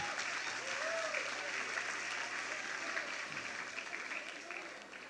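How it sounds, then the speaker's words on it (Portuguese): A church congregation applauds its kitchen volunteers, a broad even clatter of many hands that tapers slightly toward the end, with a few voices faintly mixed in. "Pode aplaudir, gente."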